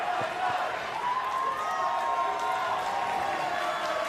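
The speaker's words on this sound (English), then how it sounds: "Crowd's taking turns chanting." Turkish and English fans chanting in turns in a para table tennis arena during a standing singles semifinal, a steady, sustained crowd roar with sung tones carrying throughout, mid-distance and fairly loud.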